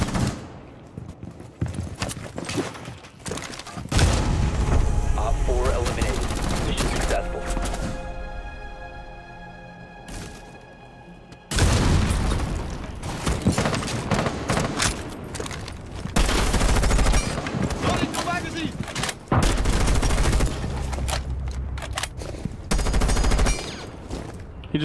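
Rapid automatic gunfire and bursts of shots from a Rainbow Six Siege match, loud and dense, with sustained volleys broken by a brief lull near the middle.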